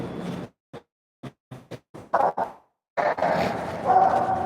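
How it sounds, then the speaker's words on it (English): Dogs bark in a series of short, sharp separate yaps and woofs spaced irregularly, followed by a longer stretch of louder, denser barking and whining close by. "Why are you guys barking?"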